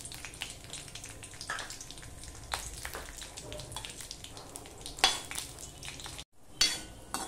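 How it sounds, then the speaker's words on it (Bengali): Dry red chilli and five-spice tempering frying in hot oil for a sweet raw mango chutney, a crackling sizzle with scattered pops and utensil clinks, close and fairly quiet, cut by a brief gap near the end. "আমি প্রথমে শুকনো লঙ্কাটা ফোড়ন দিয়ে দেব। শুকনো লঙ্কা, তারপরে এবার আমি দিয়ে দিলাম 5 ফোড়ন।"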